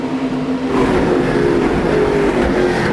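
A Speedcar Series race car, car number 80, pulls into the pits at the Malaysia round, its engine loud and close, swelling into a sustained roar as it passes.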